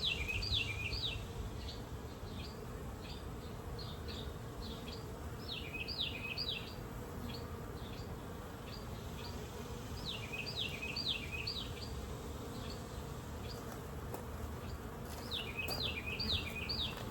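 Honeybees buzz in a soft, steady drone around an open hive, with faint bird chirps repeating in the background; no one speaks.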